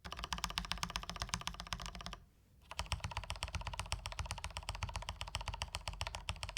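Steady, rapid typing on a mechanical keyboard with lubed keys, close and even, with soft muted clacks in a continuous rhythm broken by one brief pause.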